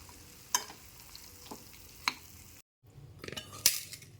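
Rice being stirred with salt in a pan, giving soft scraping swishes with a few sharp utensil clinks against the metal, close and intermittent, with a brief silent gap midway.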